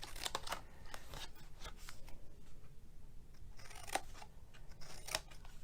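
Scissors make repeated crisp snips while cutting a paper treat box, short irregular clicks close to the microphone with brief pauses between cuts and no talk.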